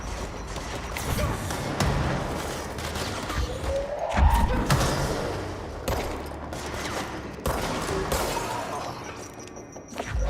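Enemies firing grenades in the video game Control: a steady stream of gunfire and explosive impacts with crashes and thuds, loud and continuous throughout.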